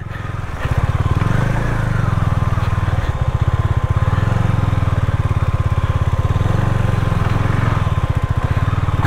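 Motorcycle engine running steadily and loud on a steep, muddy rural road in Nepal, a continuous throbbing rumble up close with slight revving, no talk.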